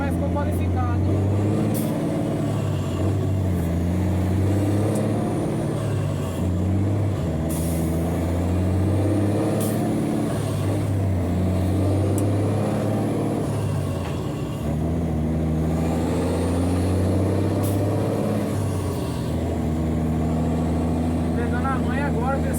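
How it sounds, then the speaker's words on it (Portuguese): A truck engine roaring as it drives, with deep steady low rumble, shifting whine and occasional air hiss, loud and close throughout. "Pegando a manha agora desse câmbio aqui, que é a primeira vez que eu dirigi um caminhão."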